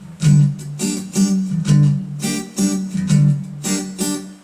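Rhythmic guitar strumming in a steady repeating pattern, with short choppy muted strokes between fuller chords, played close and clear.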